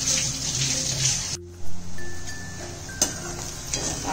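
Salted onion fries in a pan for a squid masala curry, a bright crackling sizzle up close that briefly drops away, then returns more quietly with scraping stirs.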